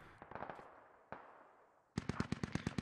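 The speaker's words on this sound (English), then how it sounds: "INS forces engaging at range." Insurgent gunfire in the military game Squad: a quick burst of rifle shots, a single crack, a quiet pause, then a louder rapid string of automatic fire, sharp and close-sounding.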